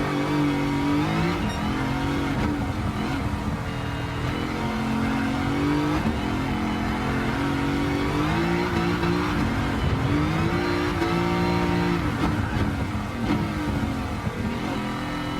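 A heavy American muscle car in Gran Turismo 7 drifts around a corner at the Nürburgring, its loud engine revving steadily and rising and falling in pitch, with faint tyre noise and no talking.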